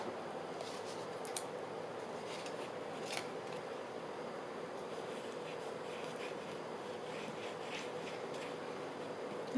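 Scissors trimming excess paper while making pockets for a boho journal, faint scattered snips over a steady quiet hiss.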